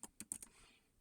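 Four quick, crisp keystrokes on a computer keyboard, close and quiet, followed by a faint room hush.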